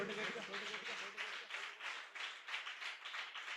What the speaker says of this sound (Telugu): గట్టిగా గట్టిగా గట్టిగా చప్పట్లు కొడుతూ ప్రభు నామమును కనపరచండి